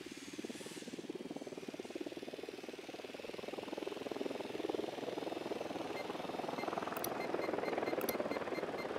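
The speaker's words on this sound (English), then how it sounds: "Deploying drone." A drone flies in a video game, a faint steady whirring rotor drone with a pulsing flutter throughout and a few brief sharp clicks near the end.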